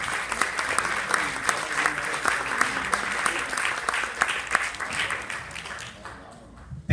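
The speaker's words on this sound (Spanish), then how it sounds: "un fuerte aplauso" An audience applauds after a guest is called up, a dense burst of clapping that holds loud and steady for several seconds before thinning out at the end.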